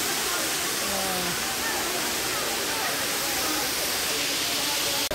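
Pangpang Habog falls in Mag-aso, Antequera, a loud, steady, unbroken roar of rushing water close by, filling the whole stretch with dense hiss.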